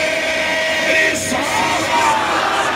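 Crowd at a religious sermon gathering shouting a devotional slogan in unison, a loud, sustained massed chorus of voices lasting a couple of seconds.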